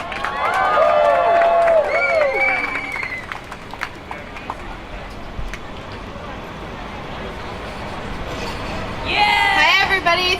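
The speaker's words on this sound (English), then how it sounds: "Let's give a round of applause for Eva and welcome her to the stage." A crowd at a Refuse Fascism rally in July 2017 claps and cheers loudly with whoops and shouts, dips into quieter scattered clapping and murmur, then swells again with cheering at the end.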